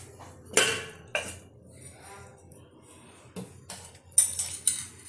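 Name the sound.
covering a cooking pot with a lid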